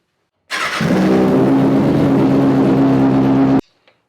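A Kawasaki ZX636 motorcycle engine fires up after a fuel pump rebuild, catching abruptly and settling into a loud, steady, close idle for about three seconds before cutting off.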